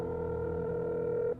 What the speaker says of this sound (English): Let's give him a wee phone call.